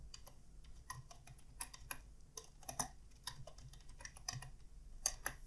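Typing on a computer keyboard while writing an HTML web page, irregular bursts of close, crisp key clicks over a quiet background hum, with no talking.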